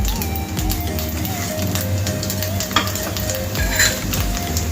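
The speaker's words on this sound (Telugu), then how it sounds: "ఇప్పుడు ఒక 1/2 స్పూన్ వరకు ఆవాలు వేసుకుందామండి" Mustard seeds and cumin fry in hot oil for mango pulihora, a loud continuous close sizzle with stirring and faint spatters throughout.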